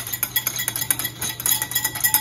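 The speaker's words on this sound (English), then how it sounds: "Just whisk it all together." A whisk beating a mixture of sherry vinegar, soy sauce and cornstarch in a bowl for kung pao cauliflower, with quick steady rhythmic metallic ticks and scrapes close by, with no talking.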